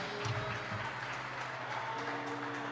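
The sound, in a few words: congregation applauding in church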